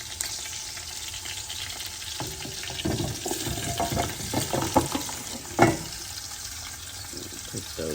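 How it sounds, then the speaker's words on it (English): Pork belly sears in a pot, a soft sizzle under scattered clinks and stirring noises, with a louder clatter near the middle and a faint watery undertone. "put that in my pot where my pork belly is now searing"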